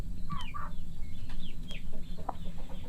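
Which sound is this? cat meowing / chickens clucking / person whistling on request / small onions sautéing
chickens clucking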